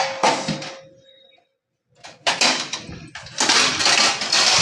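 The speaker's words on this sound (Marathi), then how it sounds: "आता ह्याच्यावर मी झाकण ठेवते" A lid is set on a cooking pan on a gas stove: clattering metal knocks, then a brief silence, then more clanks and rattles as it settles, close and fairly loud.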